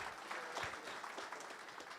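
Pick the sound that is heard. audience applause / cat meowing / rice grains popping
audience applause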